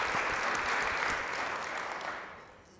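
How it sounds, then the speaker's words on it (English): Audience applause at a panel event on child care and workforce opportunity, a steady broadband wash of many hands clapping that holds loud and then fades out toward the end. "It deserves applause."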